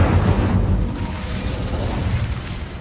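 The Incendio fire spell is cast in Hogwarts Legacy with a loud whooshing burst of flame at the start that settles into a sustained roaring crackle, heard alone.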